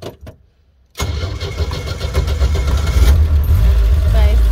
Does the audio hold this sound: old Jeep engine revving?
yes